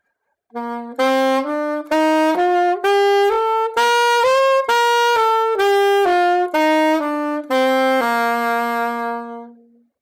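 A saxophone runs up and back down a scale in a swung rhythm, separate tongued notes ending on a long held tone, played solo and close.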